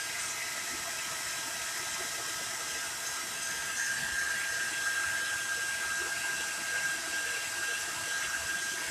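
Steady, even rush of hot air from a craft heat tool, continuous and fairly loud, with a faint high whine running through it and no talking.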